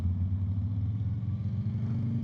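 A cruiser motorcycle following close behind emits a steady low engine rumble with a pulsing exhaust note, heard continuously at moderate level with no talking.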